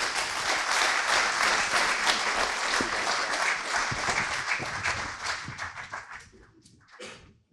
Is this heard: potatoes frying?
no